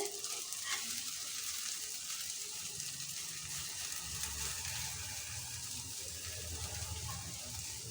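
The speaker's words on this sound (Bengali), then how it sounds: "এবার দিয়ে দেব ডিমটা আর সেই মিক্স করে রেখেছিলাম পেঁয়াজ ধনে পাতা কুচি ওগুলো দিয়ে দেব" Beaten egg mixed with chopped onion and coriander sizzles steadily in a hot pan, a close, continuous crackling fry with faint stirring and no talk.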